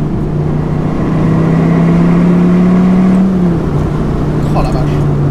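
An SRT Viper GTS sports car engine rises in pitch as it accelerates, droning loud and close for several seconds with faint voices underneath.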